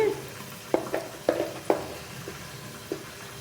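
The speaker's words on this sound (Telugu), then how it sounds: "చక్కగా మూత పెట్టుకొని ఫ్రై చేసుకోండి చక్కగా మగ్గిపోతాయి వంకాయలు" Eggplants fry in a covered pan with a soft, steady sizzle broken by a handful of sputtering pops.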